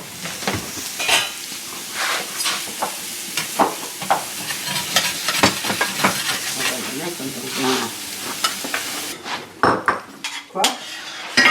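Rice sautéed and stirred in a home kitchen pot, a utensil clattering and scraping steadily against the metal over a soft sizzle, close and busy throughout, with brief louder clanks near the end.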